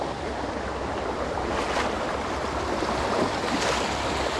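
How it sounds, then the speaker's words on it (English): A creek flows steadily in a continuous, broadband rush of water close by, with a faint breezy hiss running through it and no talk. "Love this creek, man."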